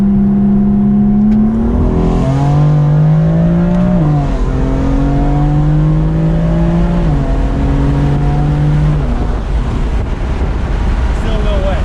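A BMW M4 Stage 2 making over 550 whp with VRSF downpipes accelerates hard on a damp road with traction control on, its loud exhaust climbing through several gear changes over steady wind rush, no talk over it.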